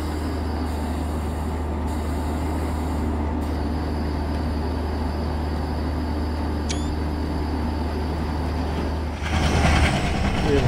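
Kamayani Express train running in a Train Simulator video game, a steady loud rumble of wheels and carriage noise with a brief squeal, ending in a louder rush as another train comes up from behind; faint talk beneath.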